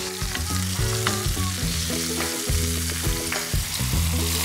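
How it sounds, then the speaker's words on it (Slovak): Sliced bacon sizzles and fries in a pan alongside veal steak, a steady close crackle with occasional stirring knocks, no voices. "Teraz prihodíme nakrajanú slaninu a opekáme."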